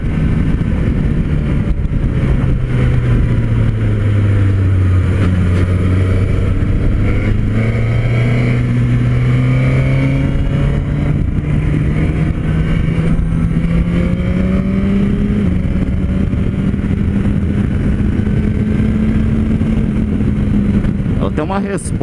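Suzuki GSX-S1000 GT sport-touring motorcycle accelerating hard, its engine note climbing and falling in pitch as it pulls forward, loud and steady throughout with wind and road noise.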